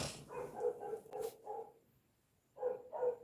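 A dog barks several times in two short bursts separated by a brief pause, somewhat distant and moderately quiet, with no one talking over it.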